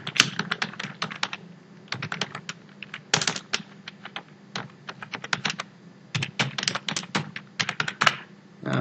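Rapid, continuous typing on a computer keyboard while entering slide text in PowerPoint, dense bursts of crisp close key clicks with brief pauses, no voices.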